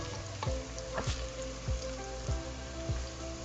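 Onions fry in a pan on a stove with a steady, close sizzle and hiss, broken by regular scraping strokes of a stirring spoon about every half second.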